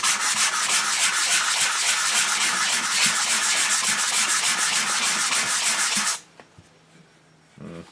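Hand sanding of an HW30 wooden rifle stock with 80-grit paper, loud and close, in fast, rhythmic rasping strokes for about six seconds before stopping, with a few faint handling sounds after.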